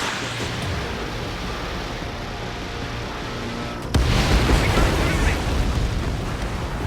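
An enemy bomber exploding in the jet combat game Ace Combat 7 on PS5, a sudden loud burst partway through that swells into a sustained roaring rumble over steady background engine noise.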